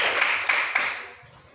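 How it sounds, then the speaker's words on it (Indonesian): A short burst of applause from an audience at a classroom session, a few seconds of clapping that quickly fades out. "Ya, berikan aplaus untuk kita semua."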